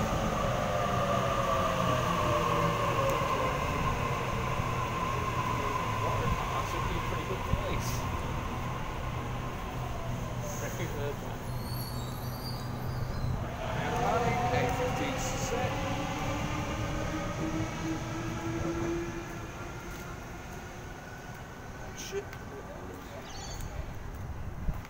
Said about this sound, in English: We got a Waratah passing on through platform number 4.